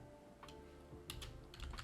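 Keys on a computer keyboard are pressed in a few quick, soft clicks, close and quiet, with no talking.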